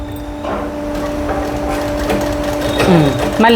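A sewing machine stitches blouse cloth with a steady motor hum and light mechanical clatter while someone talks over it.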